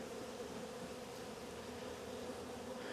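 Honeybees from a strong hive buzz in a steady, faint drone during an early spring inspection, a dense continuous hum with no talk.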